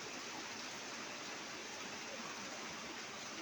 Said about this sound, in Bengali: আমাদের এদিকে বৃষ্টি হচ্ছে প্রচন্ড